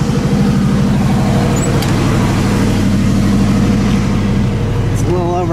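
With the mufflers cut off, a car engine idles loud and close, a raw, rhythmic exhaust pulse that chugs steadily throughout with a faint squeak near the end.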